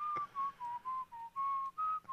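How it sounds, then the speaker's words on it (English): A person whistles a short wavering tune, sustained notes rising and falling in a slow melody, fairly faint and alone. "Well, he's whistling."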